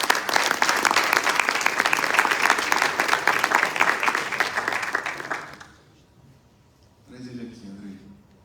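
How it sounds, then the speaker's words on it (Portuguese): Church congregation applauding, loud dense clapping for about five seconds that fades out, followed by a brief spoken voice. "Vamos dar uma salva de palmas pela vida."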